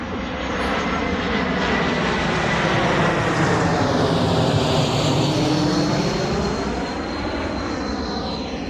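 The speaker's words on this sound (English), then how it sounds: "again a plane." Propeller airplane passing overhead, a steady, loud broadband drone with a slowly sweeping pitch that fills the whole stretch, with no talk over it.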